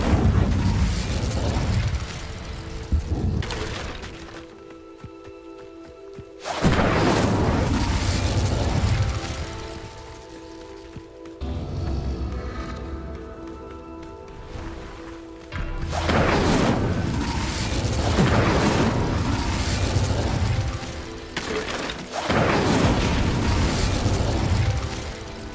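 Incendio fire spell in Hogwarts Legacy, heard as several loud whooshing bursts of flame, each lasting a few seconds and separated by quieter gaps with a tonal hum.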